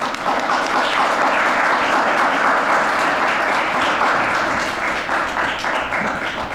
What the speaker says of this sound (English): thank you guys. Round of applause.